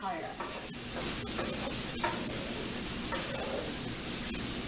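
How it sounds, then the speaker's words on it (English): Onion frying in a pan for tofu fried rice gives a steady close sizzle with occasional scraping stirs, continuous throughout. "I just let it cook until the onion is turned to clear color."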